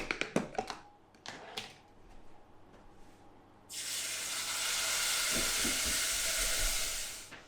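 Ground spices hitting hot pig lard in a homestead kitchen burst into a loud, steady sizzle that holds for several seconds, after a few soft taps and clinks of utensils.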